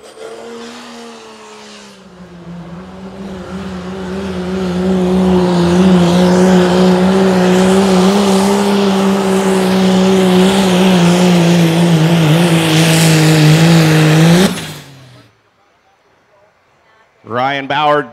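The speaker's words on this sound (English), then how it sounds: "Six-cylinder Cummins under the hood." Outlaw truck pull at Rock Valley: a diesel 4x4 truck with a stretched bed and a six-cylinder Cummins engine roars loudly and steadily for about twelve seconds, then cuts off abruptly, followed by a brief voice.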